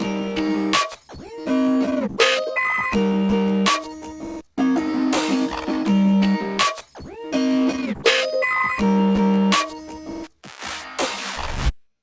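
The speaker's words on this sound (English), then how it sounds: "I laid down some snares. I chose some different snares to just create some variation." Varied snare drum samples in a hyperpop beat, layered over a chopped, cut-up melodic sample, hitting in a busy rhythmic pattern that stops and restarts in repeated phrases, loud and close with no talking.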